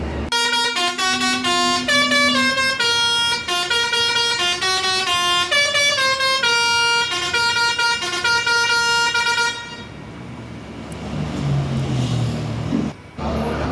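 A double-decker bus horn blares a long, loud melodic tune of repeated musical notes, then gives way to engine rumble and idling traffic noise.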